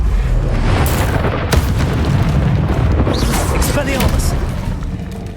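Incendio fire spell blasts in Hogwarts Legacy, booming bursts and crackling fire mixed with battle noise, loud and close, with a voice shouting spell names over them.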